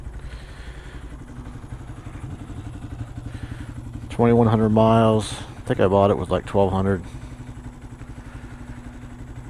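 A used 2014 Honda Grom motorcycle with a Taiga exhaust and Chimera intake with K&N filter runs with a steady, even low engine hum throughout, while a rider talks over it in the middle.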